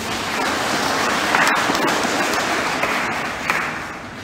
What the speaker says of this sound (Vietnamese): Mình vỗ tay đi chứ.